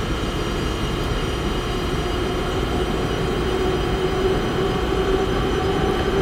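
Train in the Train Simulator game pulling away on the Moselle line at night, a steady loud low rumble of wheels and engine with faint squeal, continuous without talk.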